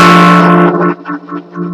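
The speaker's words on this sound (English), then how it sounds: "Tremolo sounds like this." An amplified guitar chord rings out and then pulses rapidly in volume, a wavering tremolo throb that fades over a couple of seconds.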